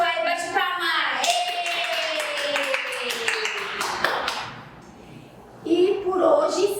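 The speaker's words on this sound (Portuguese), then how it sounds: "Quem gostou aí, bate palmas." Children clap along in short, uneven bursts of hand claps at the end of a story session, mixed with a sustained tone and speaking voices, ending in chatter.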